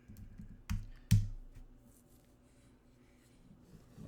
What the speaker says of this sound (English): Let me just type in budget.